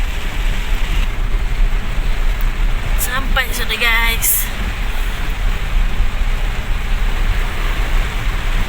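Heavy rain pours on a palm oil farm while palm fruit is being delivered, a loud constant roar of water with a person speaking briefly over it midway.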